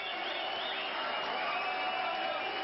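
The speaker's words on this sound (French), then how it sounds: "Ariel Sharon arrive vers 1 h du matin sous les applaudissements de ses militants." Supporters of Ariel Sharon applaud his arrival around one in the morning at a victory celebration, a dense, even wash of clapping and crowd noise that holds steady and sounds somewhat distant.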